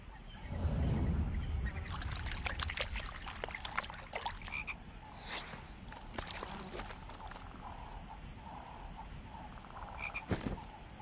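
African bullfrog croaking in a rainy-season pond, a deep low croak at the start followed by wet splashy rustles, clicks and scattered chirps over a steady background hiss, fairly faint and outdoor, no talk.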